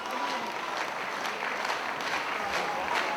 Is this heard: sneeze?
no